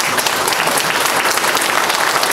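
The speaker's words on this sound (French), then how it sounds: "Je vous demande très respectueusement de vous lever avec un tonnerre d'applaudissements pour Fosso Victor" A standing ovation at a thanksgiving mass fills the space with thick, continuous applause from many people. It is loud and uniform throughout the short stretch.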